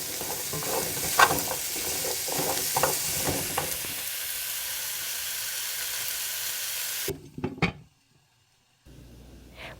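Onions and vegetables sautéing in a pan over medium to medium-low heat for coq au vin, a steady close sizzle with stirring scrapes, then a brief clatter before the sound drops to near silence.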